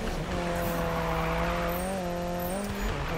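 A Mazda MX-5 race car in Need for Speed revs hard and steady, its engine note climbing and dipping slightly through a corner, loud and close, with faint hiss and tyre noise underneath.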